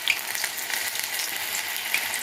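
Baby corn pieces frying in hot oil in a home kitchen, a steady close hiss and sizzle with small crackling pops throughout, no talking.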